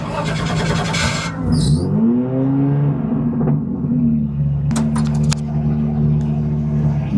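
A car engine hums and rises in pitch as it revs up close during an action stunt show at a motor show, with a deep droning tone and some voices and noise mixed in.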